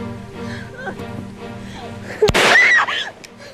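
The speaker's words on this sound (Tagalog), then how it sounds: "Putok ng baril yun ah." A single sharp gunshot cracks out during a tense scene in a 1999 Filipino telesine drama, one loud broadband burst that briefly rises over background music and scattered shouting voices.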